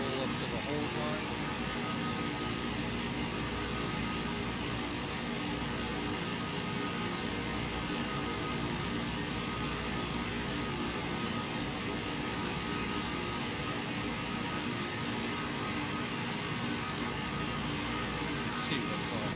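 Steady turboprop drone of a King Air taxiing in X-Plane 12, a constant loud engine hum with a high whine throughout, while someone talks over it.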